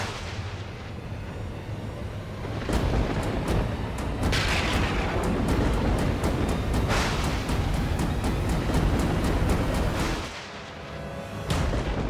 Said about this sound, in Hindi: ये कैसी गड़गड़ाहट है?